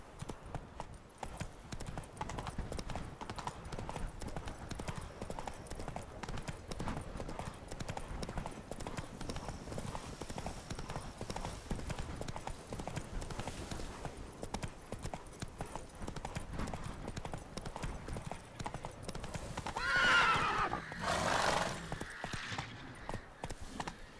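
Roach, a horse in The Witcher 3, gallops with a steady, rapid clip-clop of hooves that runs continuously at close range, with a brief louder burst near the end.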